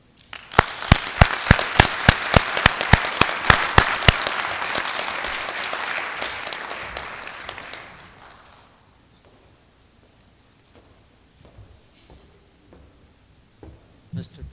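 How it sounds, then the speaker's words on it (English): An audience at a 1973 college homecoming and Hall of Fame ceremony applauds for Jim, a dense burst of clapping that swells strongly for several seconds and then fades into quiet room tone. "I think I'd like to lead a round of applause for Jim"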